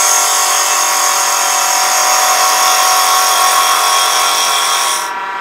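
On a wood lathe, a spindle turning tool cuts into a spinning wooden spindle. It makes a loud, steady, high-pitched whirring hiss that holds constant and then eases off slightly near the end.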